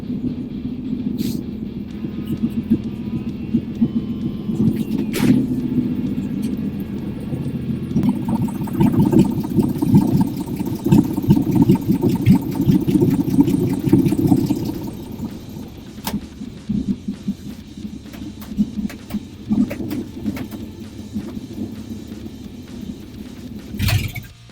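A 1953 Chevy engine with a 4-barrel carburetor, new intake and headers, idling close by with a steady low rumble that rises in the middle and settles back, ending with a few clicks.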